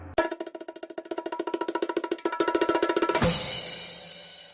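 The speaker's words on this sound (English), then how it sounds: "Little gong." A small gong sound effect plays on a live stream: a quick run of repeated bright metallic strikes, then a single ringing hit that lingers and slowly decays, with no talking.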